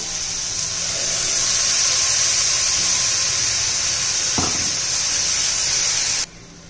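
Green chili, ginger, garlic and coriander paste hits a hot oiled pan for a raw banana curry, giving a loud steady hiss and sizzle for about six seconds with a brief clatter near the end, then cutting off; no talking.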